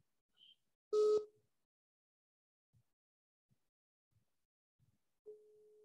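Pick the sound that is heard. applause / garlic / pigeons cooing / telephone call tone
telephone call tone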